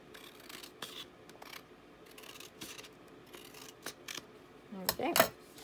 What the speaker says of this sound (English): And then I'm just going to cut the border off.